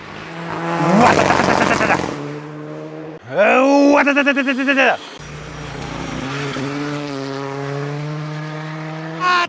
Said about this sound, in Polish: uciekamy teraz z trasy, bo zbliża się jakiś samochód